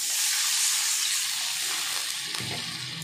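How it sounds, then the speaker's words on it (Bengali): Water poured into frying spices and tomato for a fish curry sets off a loud, close, broad hiss and sizzle that eases slightly over a few seconds, with a faint clink near the end. "এবার আমি জল দিয়ে দেব।"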